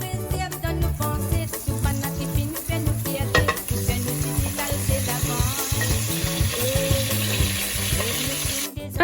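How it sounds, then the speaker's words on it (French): Pieces of smoked pork boucané fry in an oiled pot over medium heat, giving a loud continuous sizzle with repeated scraping and stirring clatter against the pot. "on va les faire revenir dans une marmite huilée à feu moyen"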